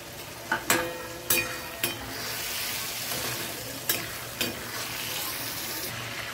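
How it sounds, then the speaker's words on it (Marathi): Peas and cauliflower masala sizzle steadily in a pan while a spoon scrapes and stirs it, giving several sharp clinks and scrapes over the continuous frying hiss. "असे सारखे मधून मधून हलवत राहायचे, खालून वर, वरून खाली"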